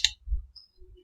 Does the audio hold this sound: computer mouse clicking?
yes